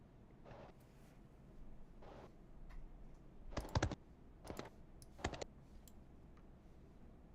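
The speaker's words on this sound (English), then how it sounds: "I love hearing clickety clackies of keyboard" Computer keyboard keys clatter in short bursts of quick, aggressive clicks with pauses between them, close and fairly quiet, during a live stream.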